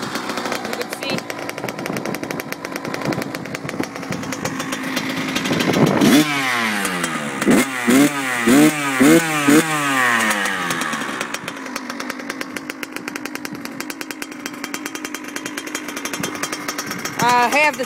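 A Kawasaki KX 100 dirt bike engine runs after a cold start on old gas with the choke on. It makes a loud, buzzy two-stroke idle with several sharp revs in the middle, and a voice talks over it.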